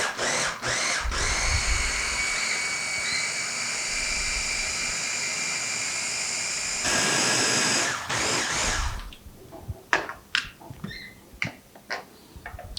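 A blender loudly blitzes fermented hot sauce ingredients in a steady continuous whir that briefly surges, then cuts off, leaving scattered clinks and handling noises.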